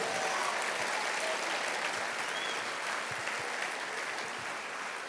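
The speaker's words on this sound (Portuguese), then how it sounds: "Se é para Jesus, faça bem forte, aplauda Ele" A church congregation applauds loudly for Jesus during an evangelistic sermon. A dense, steady wash of clapping fills the space and holds throughout, easing slightly at the end.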